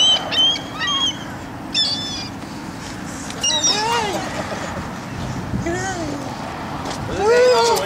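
Birds call repeatedly with sharp, rising chirps and squawks, some close and loud, scattered over outdoor background noise with people speaking nearby.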